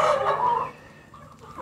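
Desi chickens pecking at broken wheat grain, with a few close hen clucks and murmurs at the start fading to quieter scratching and soft calls, no talk.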